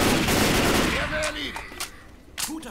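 Rapid bursts of rifle gunfire in Left 4 Dead crackle in quick succession, with a voice talking between the shots.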